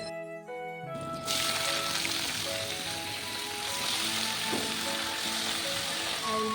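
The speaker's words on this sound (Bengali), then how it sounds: "শাকটা দেখো পেঁয়াজ দিয়ে আমি ভেজে নিচ্ছি" Chopped greens fry with onion in hot oil, giving a steady, loud sizzle that starts abruptly and holds throughout, with faint tonal sounds lingering in the background.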